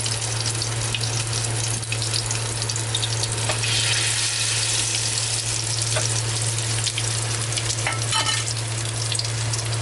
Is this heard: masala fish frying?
yes